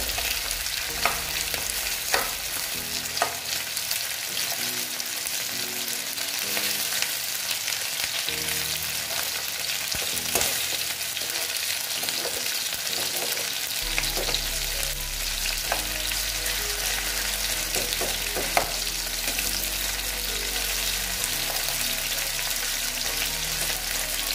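Afghani-style chicken pieces fry in a pan after being flipped, producing a loud, continuous sizzle with occasional pops and stirring clatter throughout.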